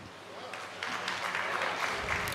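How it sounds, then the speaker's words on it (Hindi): Scattered audience clapping during a Hindi stand-up comedy show, fairly faint and building slightly after the first second, with some crowd murmur. "फिर ताली गलत बजाई तुमने"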